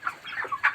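Broiler chickens on a poultry farm give a few quick, close clucks in a short burst, with no one talking.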